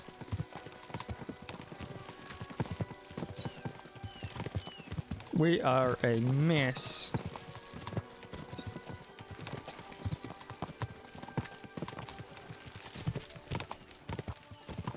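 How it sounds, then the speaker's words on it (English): Horses clip-clop along steadily in a medieval open-world role-playing game, with hoofbeats layered under music, a character's speech and a horse's whinny-like burst partway through. "We should spur the horses on."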